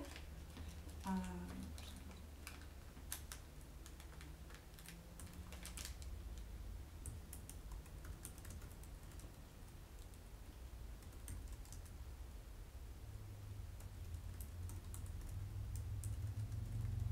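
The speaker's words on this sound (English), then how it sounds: "right underneath where Aaron's typing right now" Computer keyboard typing in a school district committee meeting room: a quiet, steady run of soft clicks and key taps over low room hum, with faint talk in the background.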